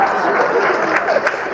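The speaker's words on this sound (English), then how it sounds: "don't clap, please" Audience applause at a live stand-up comedy show in Leeds, a steady broadband patter of clapping filling the room for a short stretch with faint voices mixed in.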